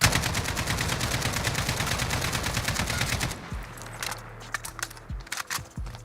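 Rapid automatic gunfire in Call of Duty Modern Warfare, a sustained fast burst of loud close shots for about three seconds, then a few separate single shots and fainter reports over game ambience.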